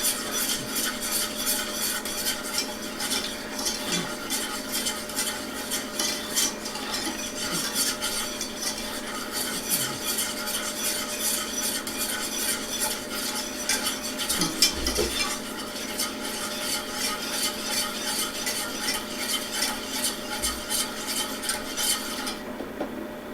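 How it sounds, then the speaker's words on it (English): Eggnog being stirred in a pan on the stove, a continuous soft scraping and swishing of a utensil against the pot with faint occasional clinks, steady and close without talk. "So we'll keep stirring this"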